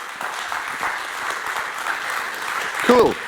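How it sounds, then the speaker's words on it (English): Audience applause at the openSUSE Conference 2025, a steady wash of clapping from a crowd in a hall, with a short burst of a voice near the end. "let's give them a round of applause"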